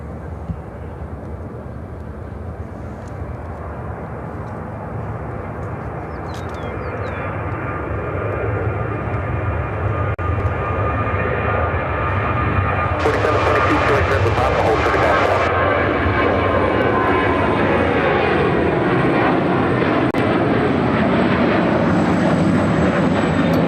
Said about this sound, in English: This is United Airlines 677 taking off to Atlanta